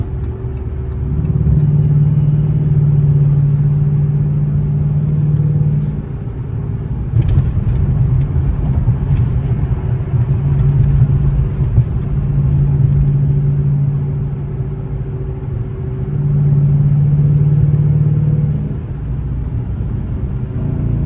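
A car with a 5.7 HEMI V8 engine drones steadily while driving, then shifts down with a brief surge and rough rumble before the engine note settles and climbs again, loud and close inside the cabin.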